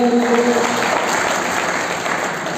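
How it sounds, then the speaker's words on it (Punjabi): An audience at a rural fair gathering claps together in a steady, dense burst of applause that carries evenly through the whole moment, with a voice audible only at the very start. "ਤਾੜੀਆਂ ਮਾਰੋ ਆਪਣੇ ਨਾਮ ਦੇ"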